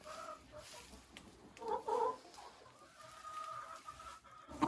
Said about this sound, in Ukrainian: Індичка несеться, буде буде індиче яйце.